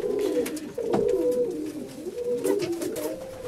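Serbian High Flyer pigeons coo inside a loft coop with wood-shaving bedding, a flock of soft, overlapping throaty coos repeating close by with faint rustling.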